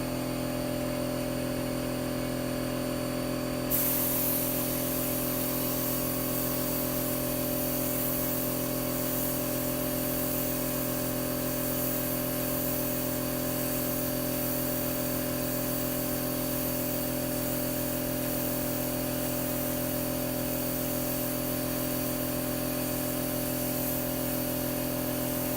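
A worn spray gun blasts primer onto the back of a BC Rich Beast guitar body, making a steady, loud hiss over a constant compressor hum that runs unbroken for the whole stretch.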